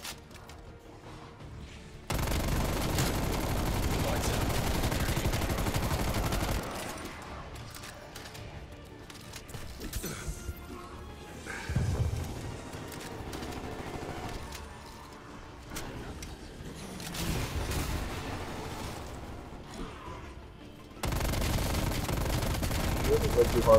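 A light machine gun fires in Call of Duty Cold War Zombies: long loud automatic bursts at the start and end, with quieter scattered shots and people talking through the middle stretch.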